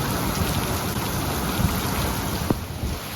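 Heavy rain falls at night in Leakey, Texas, as a dense, steady wash of noise, loud and constant, with one brief sharp tap near the end.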